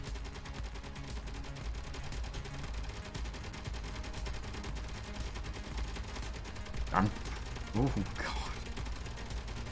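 Space Engineers turrets firing, a rapid rattling stream of automatic shots heard at a distance amid mechanical noise, with a couple of louder bursts near the end and a brief exclamation.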